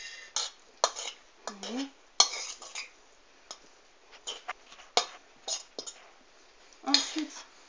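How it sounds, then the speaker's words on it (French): A utensil scrapes and clinks against a bowl while mixing a tartare of tomato, avocado, shrimp and parsley, giving irregular close taps and scrapes with short pauses, and someone briefly speaks. "Vous mélangez le tout."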